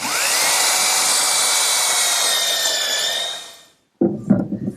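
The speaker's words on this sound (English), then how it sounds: "I'm ready to drill the holes using a 1/2 inch brad point bit" A drill with a 1/2 inch brad point bit bores steadily through two pieces of wood for several seconds, its pitch easing as it cuts through, then stops; brief handling clatter follows.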